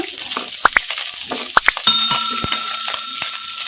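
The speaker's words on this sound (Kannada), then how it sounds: "ಇವನ್ನೆಲ್ಲ ಮೀಡಿಯಮ್ ಫ್ಲೇಮಲ್ಲೇ ಫ್ರೈ ಮಾಡ್ಕೋಬೇಕು ಈ ಥರ ಕಲಿಸ್ಕೊಂತ ಫ್ರೈ ಮಾಡ್ಕೋಬೇಕು" Sliced onion with cinnamon sticks and cloves frying in oil in a pan over medium flame, a steady close sizzle punctuated by several sharp clicks and taps as the mixture is stirred.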